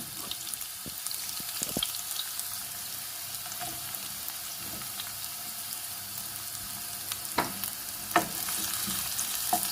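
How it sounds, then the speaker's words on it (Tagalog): Garlic and onion sauté in a pan for a squash and string bean coconut dish, giving a steady soft sizzle with occasional sharp clinks of a utensil and faint watery sounds, no voices. "igisa ang bawang at sibuyas hanggang lumabas ang aroma"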